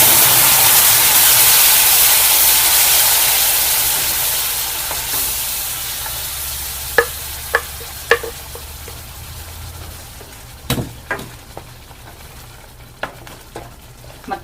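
Ground masala sizzles and fries loudly in a hot pan for a Karnataka ridge gourd bassaru, a strong hiss that slowly fades, followed by a few sharp clinks of a spoon stirring.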